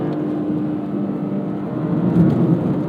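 A Toyota GR sports car rolls over gravel, with steady tyre crunch and road rumble under a low engine hum that swells slightly toward the end.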